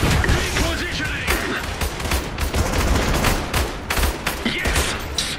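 Dense, continuous battlefield gunfire from the real-time strategy game Iron Harvest during a 2 vs 2 Saxony vs Usonia multiplayer match: overlapping rifle and machine-gun bursts with booming impacts, loud throughout, with brief unit voice lines mixed in.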